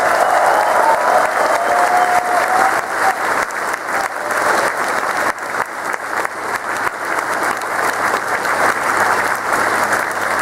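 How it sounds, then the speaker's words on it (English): Convention crowd at the Confuzzled 2018 opening ceremony breaks into loud, sustained applause, many hands clapping densely for about ten seconds with no talk over it. "we will start off with a round of applause for you guys for pulling up great on the theme"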